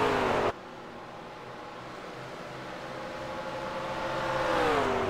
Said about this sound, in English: Coming down the straight, Jose Almeida in that McLaren